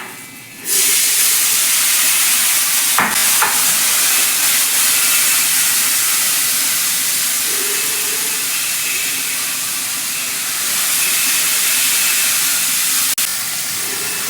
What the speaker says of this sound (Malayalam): ഇനി നമുക്ക് കൂടി വെള്ളം ഒഴിക്കാം